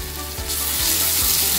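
Garlic ginger paste frying with onions in a pan for vegetable chicken biryani, a loud, steady close-up sizzle that swells partway through, with no talk over it.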